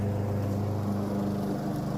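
A lawn mower runs steadily while cutting wet grass in the rain, its engine drone loud, close and unbroken throughout.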